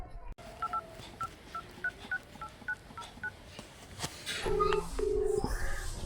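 A phone number is keyed in as a quick run of about ten short, evenly spaced touch-tone beeps, followed by louder, longer tones and a busier stretch of background noise as the call connects, with faint talk nearby.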